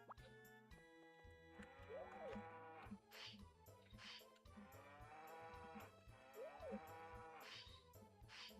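Cartoonish cow moo from the Nintendo 64 farming game Harvest Moon 64, heard twice over looping tuneful background music, with no talking.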